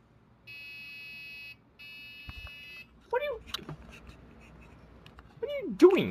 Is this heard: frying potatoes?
no